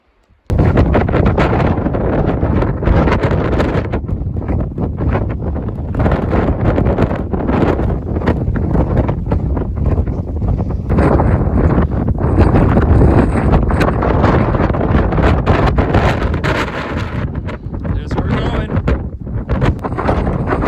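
Strong wind on a mountain summit along the Appalachian Trail's Mahoosic Trail in Maine buffets the microphone in loud, continuous roaring gusts for the whole stretch, with no other sounds breaking through.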